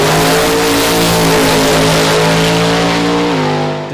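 A Chevrolet Camaro drag car screams down the strip at drag racing week, its engine roaring loud and steady at high revs throughout, pitch climbing then dropping near the end as the run finishes, with no talking.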